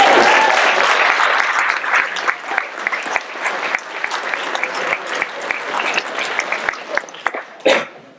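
A graduation audience applauds the faculty in loud, dense clapping that slowly thins into scattered claps, with a cough or two and a voice breaking in near the end.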